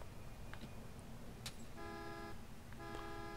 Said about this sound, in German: Du bist gegen das Auto gelaufen und die Autoalarmanlage ist angegangen